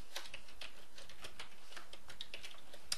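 Code is typed on a computer keyboard in a quick, uneven run of quiet, close key clicks with short pauses and one sharper tap near the end. No one speaks.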